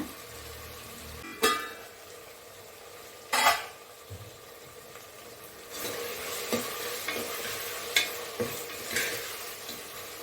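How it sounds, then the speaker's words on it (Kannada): Tomatoes cook in a pan with a continuous close sizzle and frying hiss, punctuated by a few loud scraping stirs and lighter clinks. "ಟೊಮೊಟೊನ ಸ್ವಲ್ಪ ಚೆನ್ನಾಗಿ ಮೆಚ್ಚಗಾಗಿ ಬೇಯೋವರೆಗೂ ಬಿಡೋಣ"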